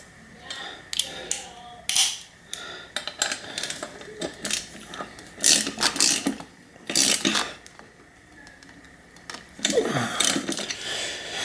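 New crank bolts being ratcheted into a Fuji Nevada mountain bike's cranks, bursts of quick clicking and metallic rattling in irregular spurts with pauses between.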